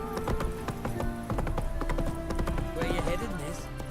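Hooves of Roach the horse galloping in a video game, a steady rapid clip-clop under dense game music and ambience, with a brief whinny-like sound and voices talking over it.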